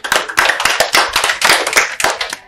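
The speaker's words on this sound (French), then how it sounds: "Applaudissez." Audience clapping at the close of a workshop, a few nearby hands striking in irregular bursts, loud and close, with sharp individual claps and brief gaps between flurries.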